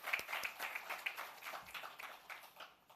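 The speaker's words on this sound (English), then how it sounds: "A round of applause." Audience applause at an investors summit, a faint, loose patter of individual handclaps from a moderate-sized crowd, tapering off toward the end.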